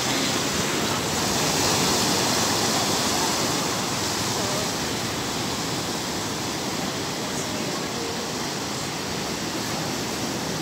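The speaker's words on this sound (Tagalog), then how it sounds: "maganda yung mga alon" Ocean waves break on a surfing beach in Zambales, a steady, loud wash of surf roaring without pause and with no voices over it.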